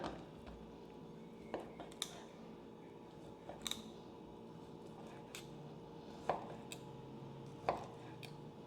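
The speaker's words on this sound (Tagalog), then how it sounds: "Tapos, hiwain lang natin siya." A knife slices guanciale, giving sparse quiet cutting clicks and taps scattered over a faint, low background.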